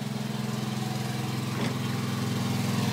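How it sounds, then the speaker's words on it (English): An 8 horsepower Wisconsin engine at 2400 RPM drives a 2-pole Winco generator, giving a steady, loud, low mechanical drone with a pulsing idle rhythm that holds evenly throughout, close by and with no voices. "2400 RPM, 8 horsepower Wisconsin, powering a 2-pole 3600 RPM generator, Winco generator"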